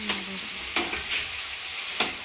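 Food sizzles in a pan in a home kitchen, a close steady hiss punctuated by three sharp stirring scrapes.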